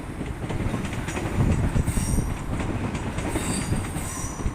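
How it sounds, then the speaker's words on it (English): A train passes close by in Salford, giving a loud, continuous rumble of wheels on rails with rhythmic clatter and brief high wheel squeals, with no voices. "I promised trains and there are trains."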